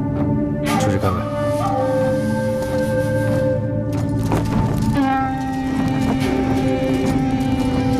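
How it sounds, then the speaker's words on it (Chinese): Horses move outside a military camp at night. Hoofbeats clatter and a horse neighs loudly and close, over a sustained musical drone, in an ancient frontier war drama. "你听，外面有马蹄声。"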